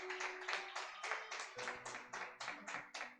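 A church congregation claps in quick, regular rhythm, about a dozen crisp beats in three seconds, fairly close and moderately loud with faint background tones underneath.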